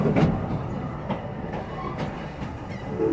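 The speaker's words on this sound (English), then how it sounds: "Our train is now crossing over into the Egypt section of the park." Serengeti Railway train at Busch Gardens theme park rolling along: steady low rumble with periodic clickety-clack of wheels over rail joints, heard from aboard, without talk.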